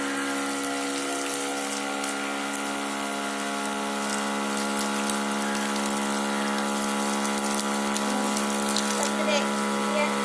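A small mini water pump runs under test while pumping water, with a steady, close electric whine and hum that holds an even tone for the whole stretch without pause.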